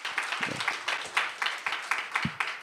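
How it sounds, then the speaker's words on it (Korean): Applause for award winners at a Korean speaking contest for international students, a rhythmic, fairly close round of clapping in steady beats, with low voices murmuring faintly underneath. "큰 박수 부탁드립니다"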